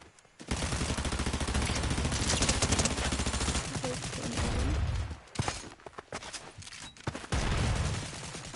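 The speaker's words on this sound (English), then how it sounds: "Oh, I'm being shot." Sustained rapid gunfire in the video game Fortnite, with long dense bursts of automatic shots that stop briefly and then start again. A voice can be heard faintly.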